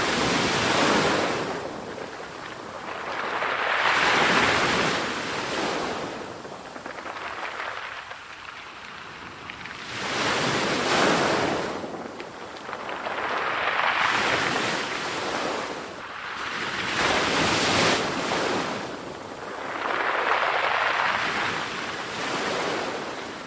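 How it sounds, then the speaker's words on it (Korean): Ocean waves in a played recording roll in and wash out in slow, steady surges roughly every five to six seconds, a broad hiss swelling and receding with no voices over it. "이 소리는 파도 소리인가요?"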